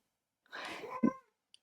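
A cat gives a single short meow, fairly faint and close, followed by a tiny click in an otherwise quiet room.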